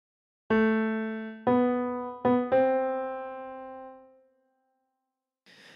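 A slow piano melody phrase from the lullaby All Through the Night plays alone, with a handful of clear, ringing notes struck in sequence and sustained before fading into silence.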